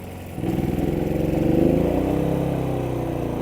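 A Forte FG4500IE 3.6 kW inverter generator picks up speed as a 3 kW heater load is switched on, its engine rising from a low idle into a louder, steady throbbing drone with a rhythmic pulse.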